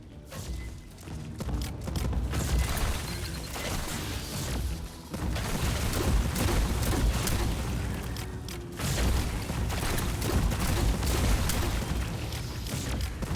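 Repeated booming blasts and thuds roll on almost nonstop, heavy and dense like game explosions, with brief dips between bursts.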